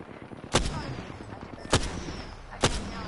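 Three sharp, loud gunshots ring out about a second apart during an Apex Legends match, each a separate crack over a steady bed of game noise.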